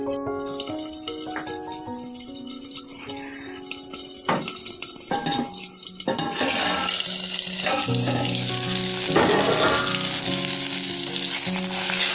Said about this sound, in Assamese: আলুখিনি আধা ফ্ৰাই হৈ লওক এতিয়া অকণমান ফ্ৰাই হ'বলৈ দিওঁ